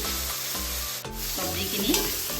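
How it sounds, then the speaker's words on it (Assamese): Vegetables fry over a high flame in a pan with turmeric and coriander powder. The steady sizzle runs through the clip, broken by a few scraping stirs and rubbing sounds and a short dip partway through. No one speaks. "হাই ফ্লেমতে ভাজিছোঁ চব্জিখিনি"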